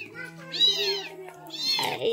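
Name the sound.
cat meowing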